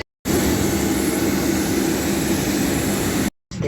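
Steady roar of an airliner's jet engines heard from inside the plane, a constant loud broadband drone that starts and cuts off abruptly, with no talk.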